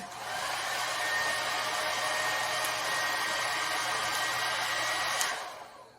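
An inexpensive Confu hair dryer blows with a steady, loud whooshing roar and faint motor whine, running close by for several seconds before cutting off.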